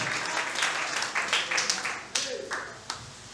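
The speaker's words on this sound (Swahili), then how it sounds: "Mpigie Yesu makofi kwa ajili ya kusudi lake." A church congregation claps for Jesus during a Swahili sermon, a dense patter of hands rising and falling in waves with short sharp bursts, while voices carry on underneath.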